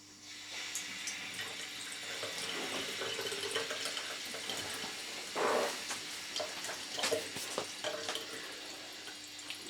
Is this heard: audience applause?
no